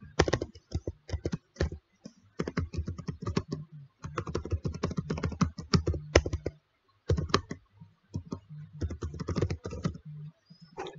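Rapid keyboard typing in bursts while user details such as names and a password are filled into an account form, close and clear with brief pauses between runs of keystrokes and no talking.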